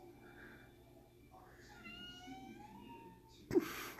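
A pet cat meows for attention in a quiet room, a few soft, drawn-out meows close by, ending in a brief louder rustle or bump.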